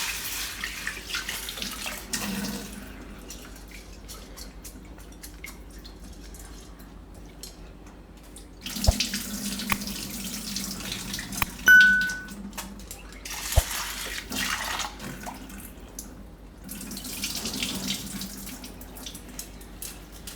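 Tap water running into a vessel while lentils are washed in a home kitchen, a steady splashing flow that stops and restarts, with a few clinks of utensils.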